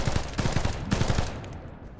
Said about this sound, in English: Recoil happens after you finish all 3 rounds.